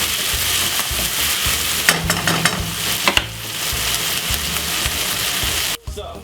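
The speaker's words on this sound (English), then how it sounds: "the veg is frying up lovely and nice" Loud, continuous sizzling of vegetables frying in a pan, with a few stirring scrapes partway through and a brief pause near the end.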